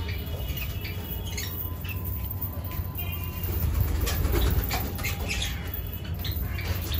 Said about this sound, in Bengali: সব পায়রা ঢুকে গেল বন্ধুরা